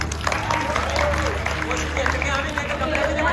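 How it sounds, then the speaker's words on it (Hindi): Audience at a university class party applauds in a steady wash of clapping over a low hum and busy crowd chatter, sustained and fairly loud throughout. "बस ताली बजा दो।"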